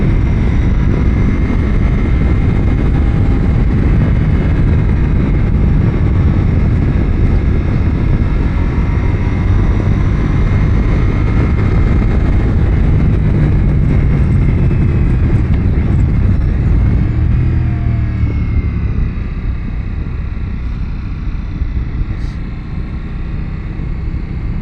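A 2024 Ducati Pikes Peak engine drones loudly and steadily while the motorcycle is ridden, mixed with dense wind rush, holding a constant roar for about twenty-five seconds without talk.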